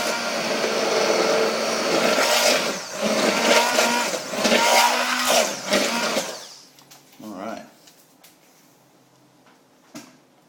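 A blender whirs loudly while mixing French toast batter, running in uneven bursts for about six seconds before cutting off, followed by quiet clatter and a voice speaking nearby.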